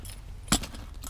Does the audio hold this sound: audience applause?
no